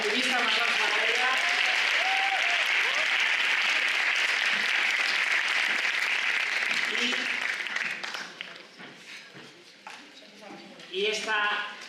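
Audience applause at a mental health event fills the first eight seconds as a dense, loud wash with voices over it, then fades and gives way to speech.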